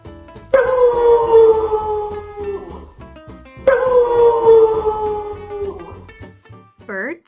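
Two long, mournful wolf howls, each sliding slowly downward, loud and close, followed by a brief higher yelp at the end.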